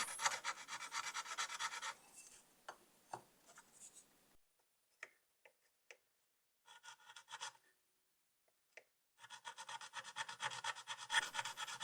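A hand tool scrapes and rasps as it cuts parallel chequering lines into 5 mm sheet ebonite knife handle scales, coming in short scratchy bursts with quiet gaps between strokes, close up and with no talking.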